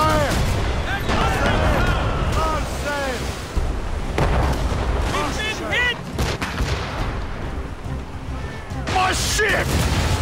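Ship cannons booming during a naval battle in Assassin's Creed Rogue, dense rumbling volleys and blasts under shouting voices and battle noise, loud throughout.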